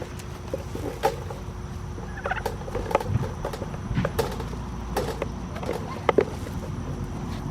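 Turkeys in a pig pen gobble in repeated bursts among scattered knocks and shuffling, with an animal calling near and loud over a steady farmyard background.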